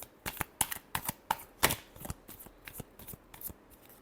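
Tarot cards riffle and snap in quick, uneven bursts, about a dozen crisp shuffling pulses over a few seconds, close and fairly quiet with no talking.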